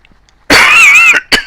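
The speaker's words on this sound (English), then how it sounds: "Dying from coughing is not something I want to do." A close, loud cough bursts out after a moment of quiet, followed by a shorter second cough.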